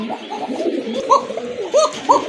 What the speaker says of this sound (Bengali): কবুতরের ডাক দেখেন